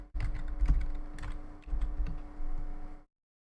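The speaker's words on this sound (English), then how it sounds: "Listen to my keyboard sounds." Fingers type on a computer keyboard in quick bursts of clicky keystrokes, close and fairly quiet, with a short pause in the middle, then the sound cuts off.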